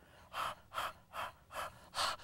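A singer in a choral vocal exercise pants in five breathy, evenly spaced bursts with tongue out, heavy and close, imitating a dog's panting.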